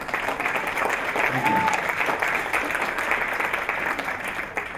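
Steady applause from the audience at the Global Chemtrail Summit in Tucson, Arizona, sustained dense clapping that fills the room at even volume without a break.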